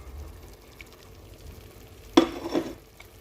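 Sausage pieces dropping into a hot pan for chutney, bursting into a sharp, close sizzle that fades and swells briefly with a stirring scrape.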